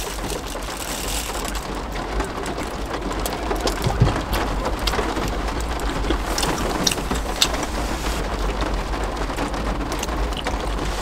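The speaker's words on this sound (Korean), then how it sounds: "아, 근데 진짜 빗소리 듣고 있으니까 좋다" Steady rain patters on a surface close by, a dense, continuous hiss with scattered louder drops and a low rumbling background, no voices.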